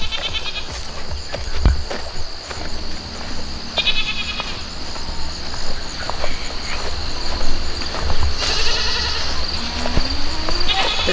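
Goats bleat repeatedly at moderate distance over a steady outdoor hum, with a person talking now and then.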